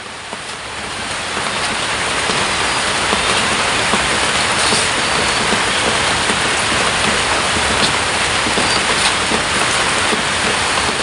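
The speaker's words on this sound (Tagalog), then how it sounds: "Umulan na guys, umulan na naman." Rain pours outdoors in a steady, dense hiss that swells over the first second or two, then stays loud and unbroken, with scattered sharper patters on nearby surfaces.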